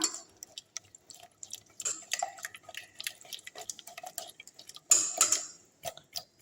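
Raw chicken, about half a kilo, being mixed with salt by hand in a home kitchen, giving soft wet squelches and clicky slaps in an irregular stream, close and fairly quiet, with no talking.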